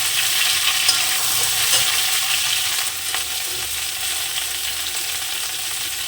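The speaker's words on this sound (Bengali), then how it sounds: "কাঁচা লঙ্কা উচ্ছে পাতা দেওয়ার পরে আমি তরকারিটা একটু কষে নেবো" Curry with green chillies and bitter gourd leaves frying in a pan for a shingi fish dish, a loud continuous sizzle with spatula stirring running through it, no voices.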